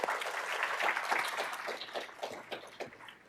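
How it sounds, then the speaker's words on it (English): A conference audience applauds, a moderate crowd of clapping hands forming a continuous patter that thins slightly toward the end, heard at a modest distance without speech over it. "let's give one more round of applause to everyone who's been on a panel today."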